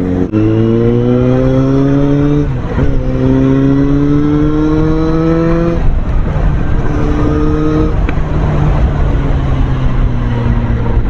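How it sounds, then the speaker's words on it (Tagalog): A Suzuki Bandit 650 motorcycle engine runs close and loud, rising in pitch through several smooth revs and gear changes before easing back, a crisp steady tone throughout. "sobrang smooth ng engine. Pati yung sound, meron siyang distinctive na sound na yung sobrang crisp"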